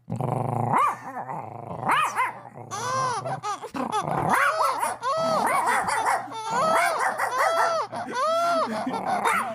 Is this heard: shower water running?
no